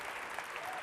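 Brief burst of dense audience applause at the 2010 One Young World closing ceremony, a steady wash of many hands clapping at once, loud and continuous for under a second.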